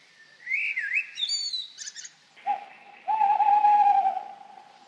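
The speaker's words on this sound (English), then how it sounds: "Ah, yes, the owl." A bird calls at dusk, an owl giving a sustained, steady hooting tone that follows a few brief chirping notes, fairly close and clear with no voices.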